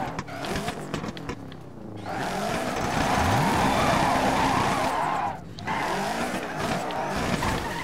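Rally car engine revving and tyres skidding on a loose offroad course in DIRT 3, loud and continuous with brief drops in the engine note between runs.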